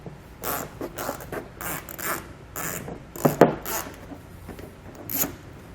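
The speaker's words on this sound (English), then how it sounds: "You're going to want to use that same T15 Torx bit, and we want to pull all 5 of those screws out." A T15 Torx bit backs screws out while a Blue Ox base plate kit is fitted to a 2020 Chevrolet Equinox, giving several short, close mechanical whirring and ratcheting bursts separated by pauses.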